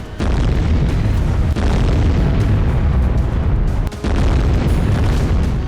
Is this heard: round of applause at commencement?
no